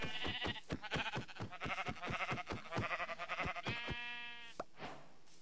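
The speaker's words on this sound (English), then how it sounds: "Oh, brown sheep." Sheep in the Minecraft video game bleat over and over in quick, wavering, nasal calls, fairly loud and close, with a longer drawn-out bleat near the end and no talking.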